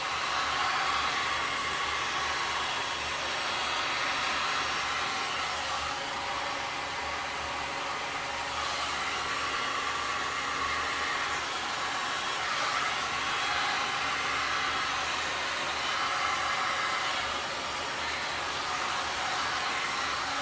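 A heat gun blasts hot air over a pink, white and black resin pour, a loud, constant, breathy roar that runs unbroken at close range with no voices.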